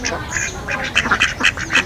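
Ducks on a parent-stock breeding farm quacking loudly and close, a lively run of overlapping nasal calls in quick, irregular bursts.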